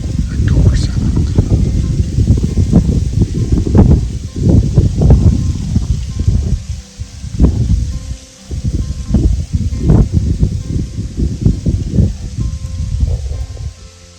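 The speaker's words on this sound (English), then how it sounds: "It's a bit windy tonight." Gusty October night wind rushes through leaves by a small drainage in Wisconsin and buffets the microphone in uneven surges, loud and close, continuing for the whole stretch.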